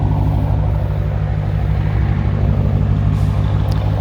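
A Dodge Challenger R/T with a Mopar exhaust idles with a steady, deep exhaust rumble, close and constant, without revving.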